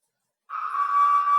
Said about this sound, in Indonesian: alarm 1 akan berbunyi